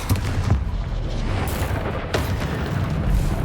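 Bombarda explosion spell in the Hogwarts Legacy video game, deep booming blasts over a rumbling low background, a couple of sharper bursts standing out.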